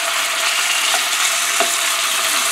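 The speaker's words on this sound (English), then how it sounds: "Love that sizzling sound." Meat sizzling loudly in hot oil in a pan, a dense continuous frying hiss with small pops and crackles, close and steady with no talk over it.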